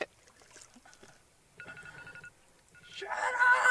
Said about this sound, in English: I think maybe the alarms go off even when the phone's off sometimes